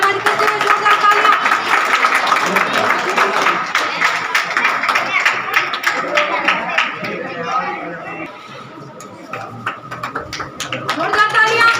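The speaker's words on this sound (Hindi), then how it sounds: "जो उन्होंने हमें सर्विस दी है उनका धन्यवाद करते हुए जोरदार तालियां।" An audience at a Kabir Jayanti school event with drawing and a yoga quiz at MSM Public School, Baniyani, claps steadily for nearly twelve seconds, with crowd chatter mixed in. The clapping thins briefly near the end, then swells again.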